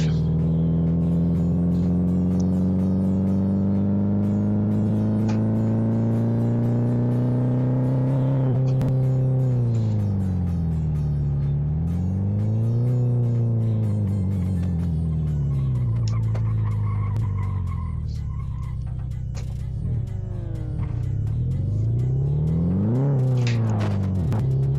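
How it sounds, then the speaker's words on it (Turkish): Volkswagen Passat B5 engine in the Live for Speed racing game, a loud continuous drone that rises and falls in pitch as the car revs, shifts and slows, with sweeping changes over a long stretch and no talk. "Aracın, aracın sesi abartı mı oldu biraz ya?"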